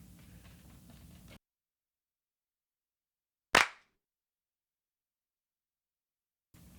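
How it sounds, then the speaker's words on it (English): A single sharp hand clap sample from a programmed acoustic drum loop, struck once alone in silence with a quick decaying tail, between stretches of noisy loop playback. "Okay, that was the claps, actually."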